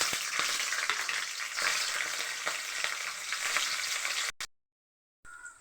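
Urad dal and chana dal crackle and sizzle steadily in hot oil for tamarind rice, a dense close frying hiss with occasional pops, cutting off abruptly near the end before a brief return.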